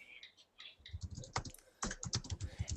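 Quick, light keystrokes on a computer keyboard, with irregular bursts of clicks tapping close to the microphone, no voice over them.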